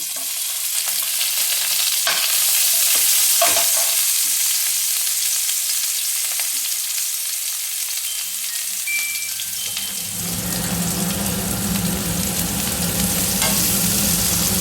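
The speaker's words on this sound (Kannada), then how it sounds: "ಬೆಳ್ಳುಳ್ಳಿನ ಸೇರಿಸ್ತಾ ಇದ್ದೀನಿ ಹಾಗೆಯೇ ಈರುಳ್ಳಿನ ಜೊತೆಗೆ ಹಾಕ್ಕೊಂಡು ಬಾಡಿಸ್ಕೊಳ್ತೀನಿ" Garlic and onion sautéing in hot oil for masala pasta make a loud, continuous sizzle up close, with stirring scrapes early on and a fuller, deeper frying roar taking over partway through.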